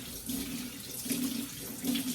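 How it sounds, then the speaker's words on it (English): Water runs from a tap over chickpeas in a strainer as they are rinsed clean of baking soda, a steady close splashing stream with slight surges. "wash them thoroughly to get the taste of the baking soda out and make sure we have clean, clear chickpeas"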